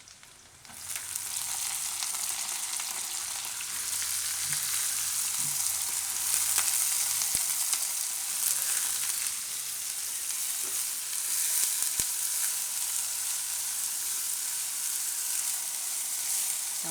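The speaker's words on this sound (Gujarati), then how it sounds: "તો હવે એમાં આપણે આ રીંગણા નાખી દેવું." Eggplant pieces tip into a hot pan with chilies for a Gujarati tanjariya greens and eggplant curry, setting off a steady, bright sizzle that holds loud and continuous for the whole stretch, with a couple of sharp utensil ticks.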